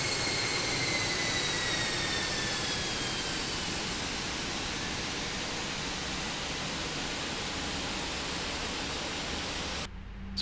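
An airliner is pushed back from the gate in Microsoft Flight Simulator 2024, heard as a steady, loud, broadband roar of engine and ground noise that drops off abruptly at the very end.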